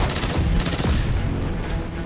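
Gunfire and explosions in the Destiny 2 story ending on PS4 Pro come as a dense, loud, continuous barrage of shots and booming impacts over about two seconds.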